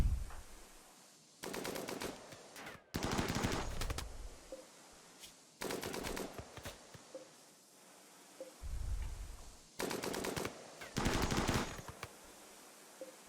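Light machine gun in the game Rimworld fires long rapid bursts repeatedly, separated by short quiet gaps, loud and close with no speech.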